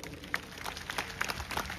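Audience claps during a political speech by David J Tirki, the crowd's applause scattered and moderately distant, with individual claps standing out against a low, noisy background.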